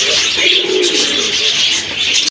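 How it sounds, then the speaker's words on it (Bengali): A pair of Mushaldom pigeons cooing softly beneath a loud, steady hiss of background noise, the low throaty calls close by and continuous. "খুবই ইউনিক কোয়ালিটিফুল এক জোড়া মুষলদম কবুতর"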